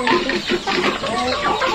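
A flock of KOB chickens on a poultry farm clucks steadily and densely at close range, with overlapping calls and no pauses.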